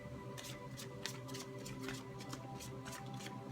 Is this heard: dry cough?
no